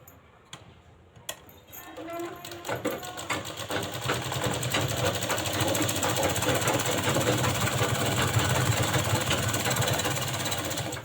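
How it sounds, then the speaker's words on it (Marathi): A sewing machine stitches a straight seam on a lined blouse, starting with a few clicks and then running in a fast, steady rattling whir close by, with no talking. "त्या सरळ लाईनला शिलाई करून घ्यायची आहे आपल्याला"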